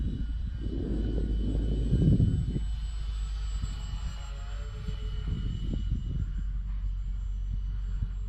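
A Dynam C-47 Skytrain radio-controlled model airplane with invasion stripes drones overhead, its steady electric motor hum carrying at moderate distance with a low rumble swelling and fading as it passes.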